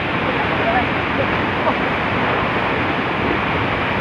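Steady, dense rush of a waterfall roars continuously and loudly throughout, with no breaks or changes.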